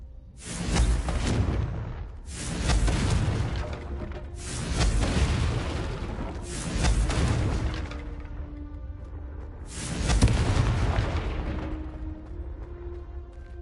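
Confringo fire spell blasts in Hogwarts Legacy, five roaring booms spaced roughly two seconds apart, each a loud fiery burst with a rumbling decay, a longer gap before the last.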